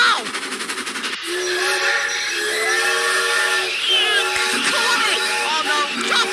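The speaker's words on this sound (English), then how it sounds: "Oh, stop the train! Stop the train!" An animated express train rushing along rails with loud steady rolling rumble and a drawn-out whistle, while excited cartoon voices shout over it.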